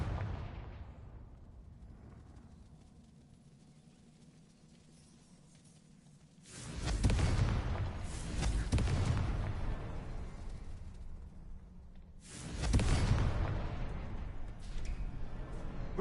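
Two loud bursts from the Confringo spell in Hogwarts Legacy, each a sudden explosive blast that rings out for several seconds, separated by a quieter stretch of low background rumble.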